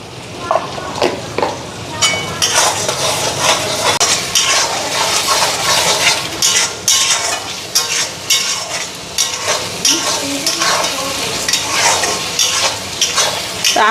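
Spices, salt, turmeric and chilli powder being stir-fried in an iron kadai: a steady close sizzle with repeated scraping and clinking of the spatula against the metal pan, continuing without pause.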